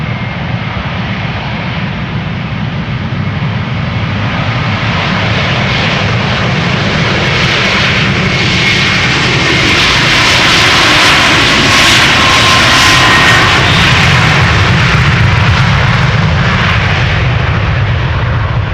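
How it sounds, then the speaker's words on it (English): A KLM Airbus A330-300 jet at Amsterdam Schiphol Airport roars loudly and continuously, its engine noise swelling toward the middle and holding strong to the end. "It is KLM flight 787, A330-300 to Sint Maarten."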